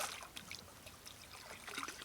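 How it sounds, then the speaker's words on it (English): Water trickles softly off a lifted item back onto a paddleboard during bonefishing, a faint, light dribble with small splashy patters close by. "the water runs out of them"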